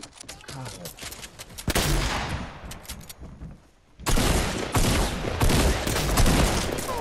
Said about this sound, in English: Can this shotgun do any damage?